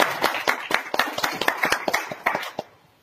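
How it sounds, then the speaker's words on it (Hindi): A small audience claps at a business-plan talk, with sharp, close hand claps in a quick uneven rhythm for a few seconds before stopping abruptly. "तालियां तो बजाओ और जबरदस्त।"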